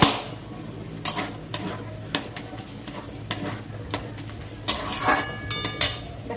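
Banana stem fries in a wok over a gas flame, with a soft background sizzle and repeated sharp scrapes and clacks of a spatula stirring at irregular intervals, close and fairly loud.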